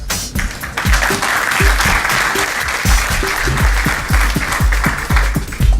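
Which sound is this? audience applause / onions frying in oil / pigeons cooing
audience applause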